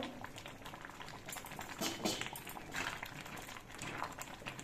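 Dal with vegetables and turmeric powder bubbling in a pot on the stove, a steady low simmering patter of small bursting bubbles, close and continuous for the whole stretch, with no voices over it.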